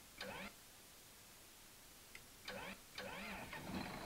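An old, temperamental tractor in Farming Simulator 17 cranks over in brief, faint bursts separated by pauses, a quiet starter whirr turning a reluctant engine.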